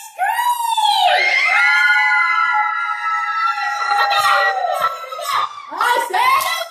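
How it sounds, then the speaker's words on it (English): A crowd of children screams together at a cheer rally, a loud, sustained high-pitched shriek that swells and wavers for several seconds before breaking into scattered yells. "Everybody scream!"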